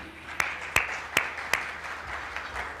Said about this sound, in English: Join me in applauding them.